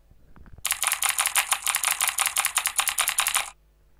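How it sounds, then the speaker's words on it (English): Rapid clicking of computer keyboard keys on a Windows 10 PC, a dense, evenly paced run of crisp taps lasting about three seconds, then quiet. "Now you can see the sound of keyboard is appear."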